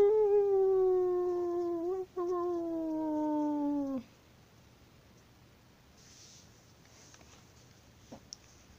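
A person imitates a dog or wolf howling with a single sustained, wavering howl lasting several seconds, followed by quiet room noise.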